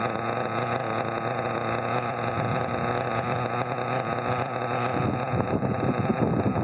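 A small engine idles during a Tessmann break-in run outdoors, holding a steady buzzing drone throughout. Wind rumble and noise from the outdoor setting sit on top of it, and no one talks.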